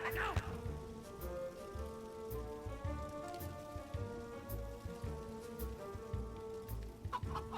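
Chickens cluck in the Shrek Extra Large video game, repeated short clucks over a steady patter like rain and layered game sounds, fairly quiet throughout.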